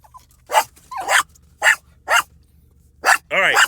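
A dog barks loudly and close by in a series of six sharp, evenly spaced barks, some ending in a whining yelp, with only faint background hum between them.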